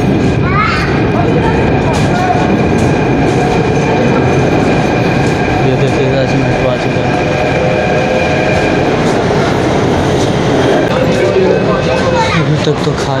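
A metro train rumbles loudly and continuously from inside the carriage, with rolling wheel noise and a faint high squeal throughout.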